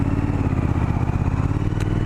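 A Triumph Street Scrambler motorcycle fitted with new exhausts cruises in top gear, its engine a loud, close, steady drone at moderate revs with no gear changes.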